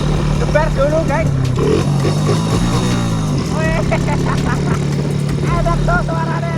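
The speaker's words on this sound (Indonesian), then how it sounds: "Enak tuh suaranya, enak banget gitu. Asli, ini motor enak tuh." A motorcycle engine revs up and down in rising and falling pitch over a steady idling drone, close by, with people talking over it.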